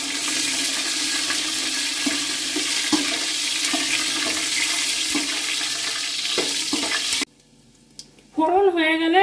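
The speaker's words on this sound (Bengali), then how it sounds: "3টা তেজপাতা, আর হাফ চামচ 5 ফোড়ন দিয়ে দিলাম। ফোড়নটাকে একটু নাড়াচাড়া করে নেব।" Bay leaves and five-spice seeds sizzle in hot oil as they are stirred, a steady loud frying hiss with soft scraping, cutting out near the end before a voice begins speaking.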